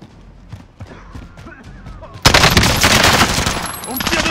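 Gunfire in the video game Call of Duty Warzone, played in a duo Mini Royale match in Rebirth mode: quiet game sounds and voices, then a sudden burst of loud, rapid automatic fire that keeps going to the end.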